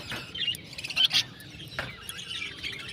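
A pair of caged pet birds with young chicks gives sharp, bright chirps and tweets in quick clusters, close by, with faint background noise and no talking.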